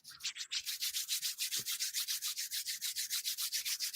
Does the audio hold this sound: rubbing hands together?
yes